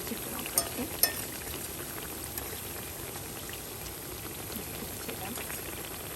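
Banana fritters (pazham pori) frying in hot oil, a steady soft sizzle and bubbling throughout with a couple of brief sharper crackles near the start.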